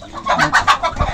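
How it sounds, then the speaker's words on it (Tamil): Hens clucking close and loud on a rooftop terrace farm raising naturally reared Kairali country chickens, a quick run of several short overlapping clucks with no talk. "பார்த்திங்கன்னா மோஸ்ட்லி எல்லாமே வந்து கோழியாகவே தான் இருக்குது"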